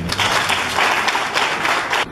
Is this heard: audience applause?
yes